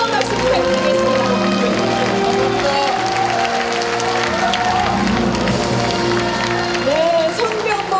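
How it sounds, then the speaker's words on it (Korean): A crowd at a public forum with the county governor of Uljin gives loud, continuous applause that fills the space, with a few voices and cheers mixed in. "다시 한번 뜨거운 박수 부탁드리겠습니다."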